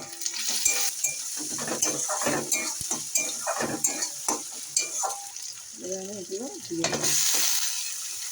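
Chopped green chillies fry in oil in a pan with onion and black cumin, producing a close crackling sizzle with spatula stirring and clinks of a utensil, and a short hum or voice sound partway through.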